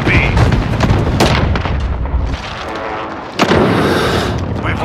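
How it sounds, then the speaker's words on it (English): Loud, close bursts from an enemy precision airstrike in Modern Warfare gameplay: heavy rumbling booms and blasts roll over one another, dip briefly, then strike again with a sharp crack near the end. "Enemy precision airstrike in."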